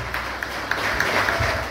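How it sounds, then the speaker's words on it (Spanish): Applause at a fourth-anniversary event of the transport federation Fedetrasajo in San José, greeting its president Efraín Cruz: a steady, dense wash of clapping from a gathered crowd, continuous through the moment with a few sharper claps standing out. "Por favor, un fuerte aplauso para nuestro amigo Efraín."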